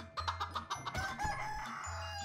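Chickens in a video game cluck in a quick run of short, choppy calls, with a steady low electronic hum underneath and no talk.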